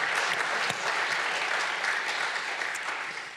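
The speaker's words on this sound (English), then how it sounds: "So let's give a round of applause to our panel," An audience at a panel discussion on protecting Antarctica and the Arctic applauds the panel with a steady, dense round of clapping that fades slightly toward the end, with no voices over it.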